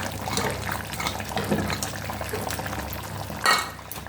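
Ground coconut paste drops into a pot of simmering curry for a veg fish curry, making a wet, bubbling pour that runs steadily with a brief louder splash near the end.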